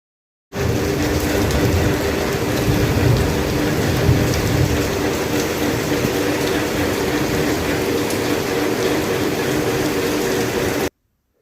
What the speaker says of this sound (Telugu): మరి ఎప్పుడు స్టార్ట్ అయిందో ఏమో వర్షం అనేది ఇక్కడ పడుతూనే ఉంది